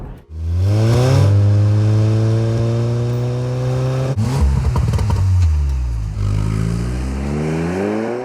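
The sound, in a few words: turbocharged four-cylinder petrol car engine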